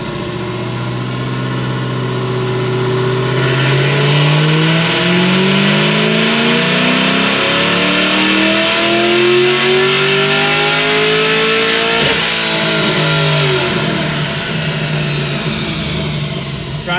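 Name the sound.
Whipple supercharged Chevy SS engine revving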